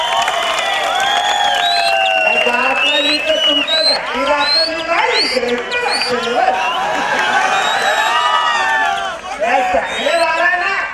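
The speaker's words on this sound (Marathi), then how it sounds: "टाळ्या वाजवूया" A large crowd at a Gokul Ashtami festival event in 2013 cheers and shouts loudly and continuously, with excited voices overlapping throughout.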